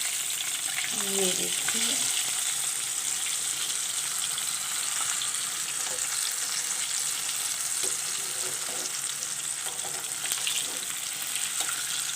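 Chicken drumsticks frying in a pan, uncovered after cooking under a lid: a steady, bright, hissing sizzle that stays even throughout, with someone speaking briefly over it near the start.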